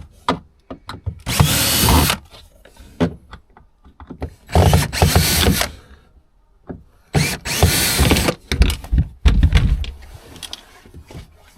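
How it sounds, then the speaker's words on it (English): A power drill backs screws out of panelling inside a tour bus being converted into a home, loud whirring bursts of one to two seconds repeating four times with short quiet gaps between them. "So we're just going to get these screws out"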